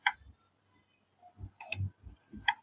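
Computer mouse clicks, pressing the run button in QGIS, come as several short, close clicks in quick succession against a quiet background.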